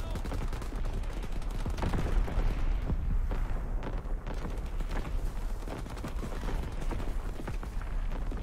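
Enemy artillery shelling in a Call of Duty match, with rapid rumbling explosions and crackling gunfire-like bursts rolling continuously, loud and dense with no pause.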